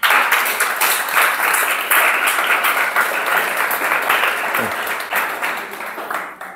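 A congregation at a church sermon breaks into sustained, loud applause, a dense continuous clapping that fades toward the end.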